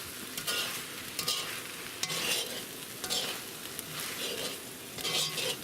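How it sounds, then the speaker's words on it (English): Ham fried rice stirred and tossed in a hot wok, sizzling steadily close up, with bursts of scraping and stirring recurring every second or so. "Give that a few jizzes around inside our wok."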